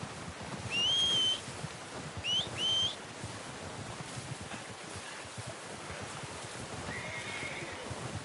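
A horse in the Red Dead Redemption video game whinnies twice, high clear neighs over a soft outdoor wind bed with faint hoof clopping.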